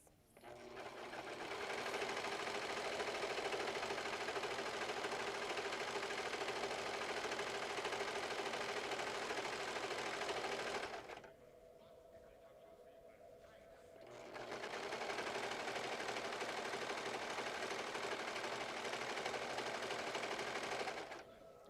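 A Brother Project Runway sewing machine stitches in a fast, even, continuous whir, running for about ten seconds, pausing briefly, then running again at the same steady pace, close and clear.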